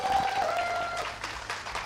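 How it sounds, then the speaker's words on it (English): An esports finals audience applauds with light cheering, a brief burst of clapping from the crowd under a faint tonal sound, fading slightly near the end. "Please, can we give another cheer for the Oxford Omnics?"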